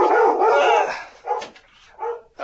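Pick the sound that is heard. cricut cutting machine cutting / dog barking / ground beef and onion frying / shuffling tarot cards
dog barking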